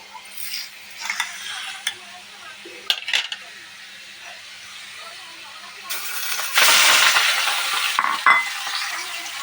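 Chicken mince sizzles and fries with browned onions in a wok, with scraping stir strokes and clinks of a utensil against the pan, loudest as the mince goes in; a voice speaks faintly.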